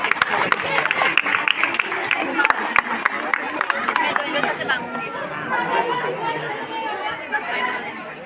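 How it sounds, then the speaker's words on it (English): A school audience at a Children's Day event claps in a burst of scattered applause that fades into steady crowd chatter and talking. "A huge round of applause everyone for Red House."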